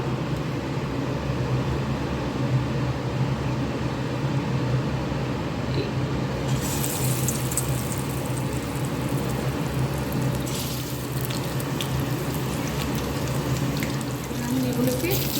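Moringa flower fritters in a rice and lentil batter fry in hot oil in a wok, giving a steady, dense sizzle that runs the whole time and grows brighter and hissier midway.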